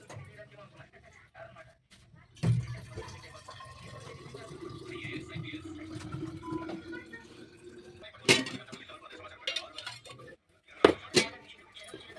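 A pet's water bowl is washed and refilled, with clinks of a metal bowl, splashing and pouring water up close, and someone talking over part of it.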